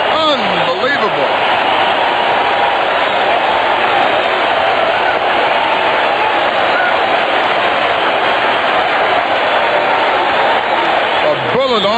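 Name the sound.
baseball stadium crowd cheering a great play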